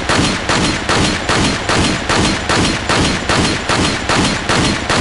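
A handgun fires repeatedly in Resident Evil 4. The sharp, loud shots come in an even, rapid rhythm of about two per second, one after another with no talk.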